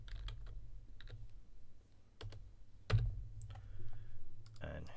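Keys clatter on a computer keyboard as a channel name is entered, a scattered run of close, light taps with a low background hum, a louder thump midway and more clicks near the end.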